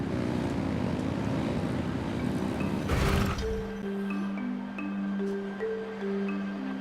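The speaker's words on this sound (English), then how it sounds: "Rev the engines!" Boat engines rev in Genshin Impact, a loud rumbling roar that surges and then cuts to a low steady hum with light musical tones over it, no talking.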